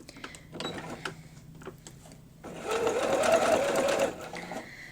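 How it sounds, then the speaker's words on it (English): A sewing machine stitches a seam on a quilt block, starting with a few short bursts and light handling clicks, then a steady, loud run of whirring stitches for about a second and a half before stopping. "get my sewing machine all set up and ready to go"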